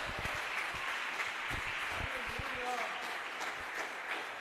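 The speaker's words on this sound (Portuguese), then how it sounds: "Você pode aplaudir Jesus?" A church congregation applauding during a Portuguese-language sermon, steady dense clapping with a voice speaking over it.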